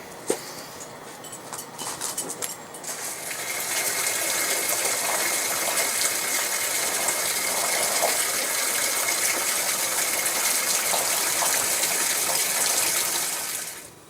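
An RV water heater draining after a vinegar soak, water rushing and gushing out in a steady, loud, hissing stream that starts a few seconds in and continues without a break, with no talking.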